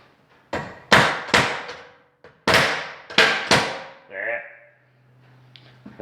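Hammer blows on a rivet set against an anvil while building a wooden end table: about six sharp, loud, ringing strikes in uneven pairs and clusters, with a brief scrape between them and a low hum near the end.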